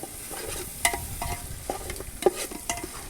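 Tomatoes, chili and ginger garlic paste fry in a pan for a chicken quail biryani, giving a steady sizzle with stirring clinks and scrapes at irregular intervals. The sound is close and moderately loud, with no talking.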